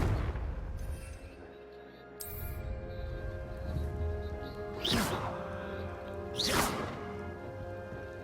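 In Hogwarts Legacy, a Confringo blasting curse lands twice as sharp whooshing blasts, each with a crackling burst, over a steady background hum from the game.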